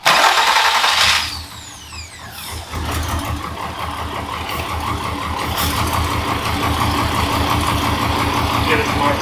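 A car engine with its mass airflow sensor unplugged cranks briefly, catches and settles into a steady rough idle that runs on, with people talking over it.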